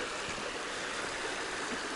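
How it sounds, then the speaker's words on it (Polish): A hot wild river flows steadily in a geothermal area in New Zealand, a close, even rush of water that keeps the same level throughout. "Jest tu na przykład taka dzika rzeka, w której można się kąpać, gorąca."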